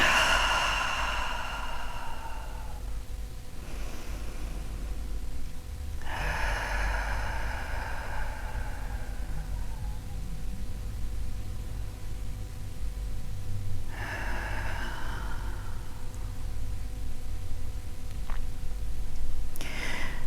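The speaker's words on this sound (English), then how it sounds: "Take a nice deep inhale and then exhaling." Deep Ujjayi breaths during a yoga flow, slow audible inhales and exhales with a soft throaty rasp, repeated in long near-field cycles with quiet pauses between them.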